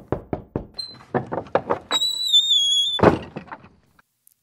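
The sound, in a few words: gentle knock on a door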